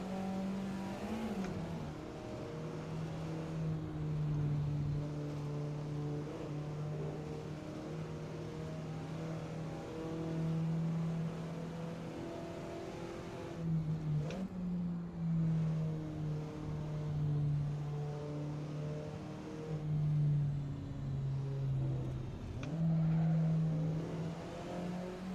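Race car engine in a racing video game, droning close and steady at high revs for a long stretch, with several short dips and rises in pitch as gears shift and the car brakes, no voices.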